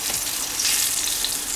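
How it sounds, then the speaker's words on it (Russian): Steady, crackling sizzle of baccalà (cod) frying in hot oil in a pan, loud and close, with continuous spitting and popping. "Еще жарим рыбку"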